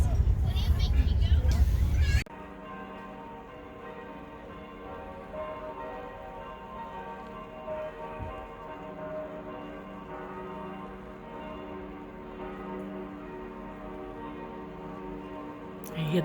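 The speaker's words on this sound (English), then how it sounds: "Maybe it's from a church from the other side of the mountains." Distant church bells in the Austrian mountains ring on with a steady, sustained hum of overlapping tones after a burst of nearby talk at the start.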